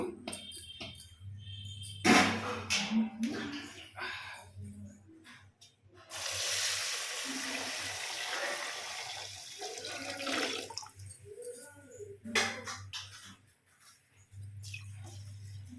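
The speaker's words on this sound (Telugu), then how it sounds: "ఇవన్నీ కలిపేసి మంచిగా వాటర్ పోసి ఒక నాలుగైదు గంటలు అయితే నానబెట్టేసుకోవాలి వాటర్ పోసేసుకుందాము" Water from a tap pours over mixed lentils and rice flakes in a bowl. The splashing rushes in bursts and then runs steadily through the middle, with handling noises and a low hum between the pours.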